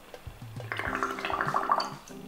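Air blown through a straw into a glass of water makes a brief burst of bubbling and gurgling near the surface, close and moderately loud, with no voices.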